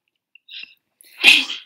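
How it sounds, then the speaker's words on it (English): A single sharp sneeze, preceded by a short intake of breath, loud and close with silence around it. "I'm gonna sneeze way too much."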